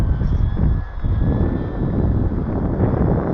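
An E-flite UMX Beast RC plane flies in windy weather, its thin electric motor whine running steadily over loud, buffeting wind noise on the microphone.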